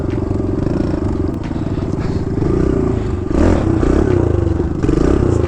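A dirt bike pops a wheelie over wood, its engine droning loud and close with revving surges and clattering knocks as it climbs and crosses.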